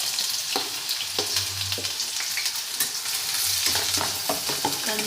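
Onion frying in hot oil with red chillies and whole spices for shev bhaji, a dense continuous sizzle with repeated spatula scrapes and stirring knocks against the pan, close and fairly loud.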